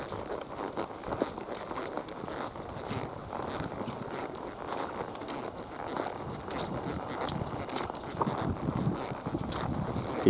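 Steady clip-clop of a Spotted Saddle horse's hooves walking at an even pace near a highway, with light rustling and outdoor background noise throughout.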